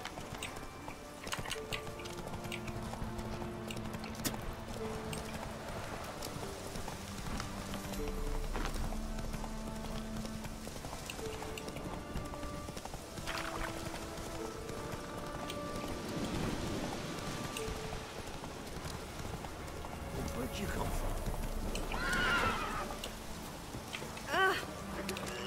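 Hooves of Geralt's horse Roach galloping in The Witcher 3, a quick rhythmic clip-clop under soft rain-like ambience and game music, fairly quiet.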